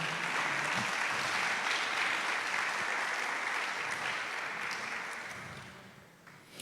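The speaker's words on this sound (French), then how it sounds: "si tu veux acclamer, acclame bien" A church congregation applauds throughout a sermon in a continuous dense wash of clapping that slowly thins and fades toward the end, with faint voices underneath.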